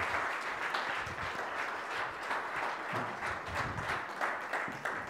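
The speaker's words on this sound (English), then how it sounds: "Give the Lord a clap offering." A church congregation gives a sustained round of clapping as a praise offering, dense and even, heard at moderate distance with no voices over it.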